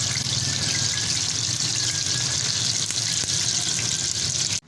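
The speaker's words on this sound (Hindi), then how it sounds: "2-2 पीस करके डालती हूँ। और इनको मैं अच्छे से फ्राई कर देती हूँ।" Chicken pieces for crispy KFC-style fried chicken fry in oil with a loud, dense, steady sizzle close by that cuts off abruptly at the end, no speech.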